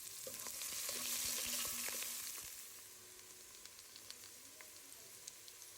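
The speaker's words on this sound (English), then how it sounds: "Now add one chopped onion and saute until translucent." Chopped onion sautés in a pan for chicken pulao, giving a soft, steady sizzle that swells gently and then eases, with scattered light crackles and scraping stirs, close but fairly quiet.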